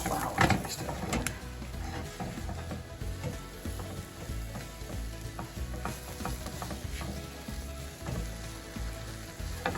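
Flour cooks in a pan as the roux base for turkey tetrazzini, giving a quiet steady sizzle with scattered scraping and clicking from stirring throughout.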